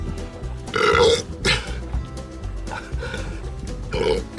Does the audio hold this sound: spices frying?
no